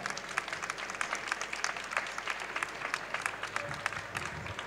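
An audience claps steadily in warm, sustained applause to welcome a guest at an Italian talk event, with dense, continuous clapping that stays even throughout.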